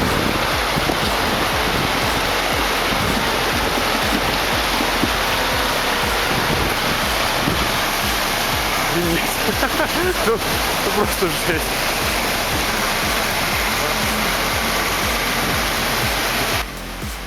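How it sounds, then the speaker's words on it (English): Fully loaded logging truck fords a fast-flowing river, a dense, constant rush of water and engine noise filling the scene, with brief speech in another language partway through. "Crossing a fast-flowing river with a full load of logs takes serious torque"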